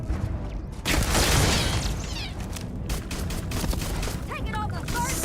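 Sustained gunfire from a firefight in the video game Starfield, loud and dense with booming shots throughout, slightly quieter during the first second.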